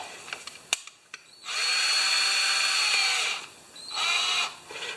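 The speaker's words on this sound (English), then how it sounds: "Drill." A power drill spins valve grinding compound on a valve seat in two whining bursts of about two seconds and one second, preceded by a few light clicks and taps.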